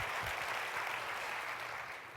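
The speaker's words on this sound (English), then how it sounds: "applause for Michael Moss" Audience at a talk on food and health applauds, a steady wash of clapping heard from a distance that fades slightly toward the end.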